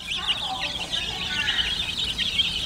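A group of chickens keeps up a continuous, busy chorus of high clucks and peeping calls at moderate loudness, with no clear pauses.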